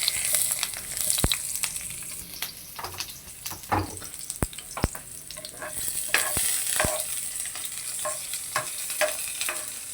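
Onions frying in a pan for mongo bean soup, a steady close sizzle broken by repeated sharp scrapes and knocks of a spatula stirring against the pan, continuing without any voices.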